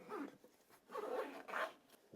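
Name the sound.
opening the rose gold zip of a Sony headphone case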